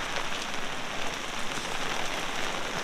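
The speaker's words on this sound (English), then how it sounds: "It's just pouring." Heavy rain pours down steadily over a muddy pecan orchard, a dense, even hiss of drops on surfaces with no voices.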